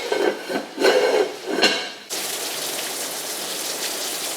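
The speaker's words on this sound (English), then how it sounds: "We probably should have brought in our patio furniture cushions before it started raining" Rain falls outside past a patio with furniture cushions left out, a steady broadband hiss that begins abruptly after a few rubbing, shuffling sounds and continues evenly without talk.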